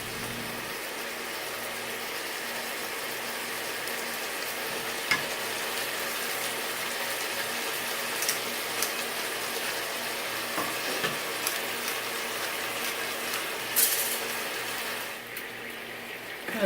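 Seasoned chicken pieces sizzling steadily in a hot pan on medium-high heat, a continuous bright crackle and hiss up close with a few sharper pops and spatters.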